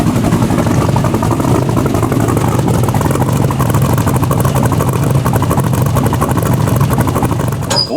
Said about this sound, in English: It's got the perfect amount of sound so everybody knows that you have a really aggressive engine